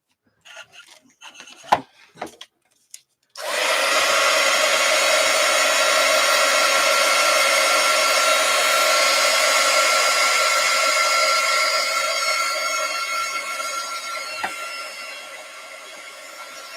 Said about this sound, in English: I wonder if I can use my heat gun on it.